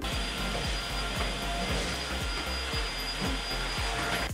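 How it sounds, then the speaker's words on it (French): Compact vacuum cleaner running on a bathroom floor, a loud continuous motor whine and airflow roar with a faint low thumping rhythm throughout. "Je vous invite à investir dans ce genre d'aspirateur compact parce qu'on gagne énormément de temps."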